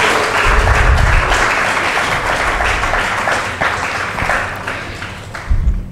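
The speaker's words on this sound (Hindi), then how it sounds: "तो तालियां भी उस हिसाब से बजनी चाहिए" An audience at an open mic awards night claps for a Bollywood singer, loud, dense and sustained, tapering slightly toward the end.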